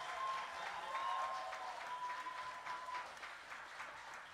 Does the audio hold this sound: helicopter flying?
no